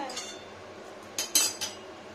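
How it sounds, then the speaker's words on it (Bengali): A kadai gets shifted around on a kitchen stove, with a few sharp metallic clinks and knocks over a quiet background, the loudest strike coming in the middle. "কড়াইটাকে সরাতে তো হবে।"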